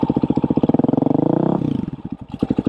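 A Beta 500 dirt bike with a full FMF exhaust rides by loud and close, its engine pulsing rapidly and rising in pitch before backing off into a rougher, choppier off-throttle burble.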